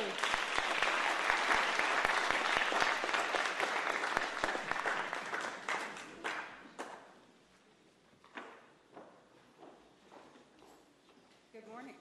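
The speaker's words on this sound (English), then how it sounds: "let's give Valerie a round of applause for coming back here and reporting" A round of audience applause for a returning presenter at a business club talk: a loud, dense burst of clapping that thins over about six seconds into a few scattered claps and shuffling noises.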